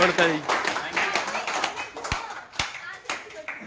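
Scattered hand claps ring out across a lively gathering, several sharp isolated claps standing out over overlapping voices and background chatter.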